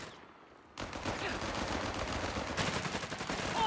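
Sustained gunfire from a Company of Heroes 3 battle breaks out suddenly after a quiet opening, with dense overlapping shots and bursts continuing steadily and loudly to the end.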